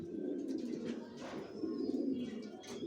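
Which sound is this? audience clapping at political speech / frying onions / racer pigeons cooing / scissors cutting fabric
racer pigeons cooing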